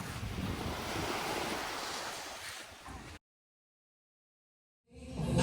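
Sea waves wash onto the shore at Lemery, Batangas, a loud broad rush mixed with wind buffeting the microphone, cutting out briefly before returning.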